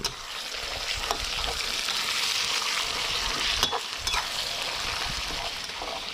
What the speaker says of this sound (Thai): เราก็จะผัดคลุกเคล้าให้เข้ากัน จนเนื้อปลาร้าของเราสุกเลยนะครับเพื่อน